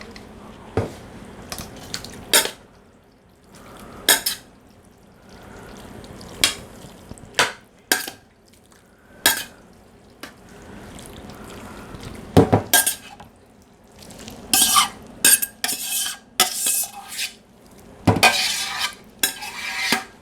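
Mirliton (chayote) casserole mixture is scraped back into a casserole dish, with a string of sharp utensil scrapes, clinks and knocks against the dish coming in irregular bursts, separated by quiet gaps.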